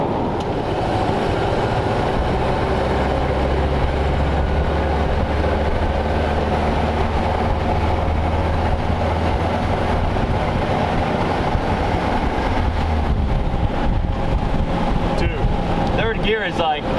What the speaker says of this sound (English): it sounds like the engine just literally shuts off